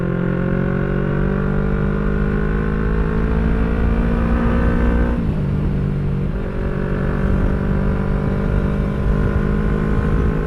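A 2018 Yamaha R3 V1 motorcycle being ridden, its engine droning loud and close with a rising pitch as it accelerates, dropping briefly at a gear shift before climbing again.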